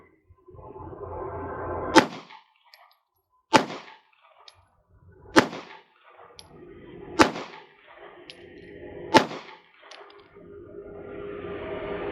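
Five sharp gunshots ring out from a Strike Industries Strike 80 pistol, spaced roughly two seconds apart at a steady pace, each a loud crack with a brief echo over quiet outdoor background.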